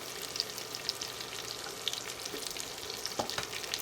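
Asparagus spears sizzle and crackle in a pan, a steady close frying hiss with scattered sharp pops and no voices.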